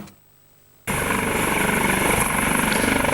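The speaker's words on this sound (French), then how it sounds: "La police nationale de Côte d'Ivoire a désormais son premier hélicoptère." A new Dauphin police helicopter of the Côte d'Ivoire national police starts up abruptly after a moment of near silence, its loud, steady rotor and turbine roar running on unbroken and close by.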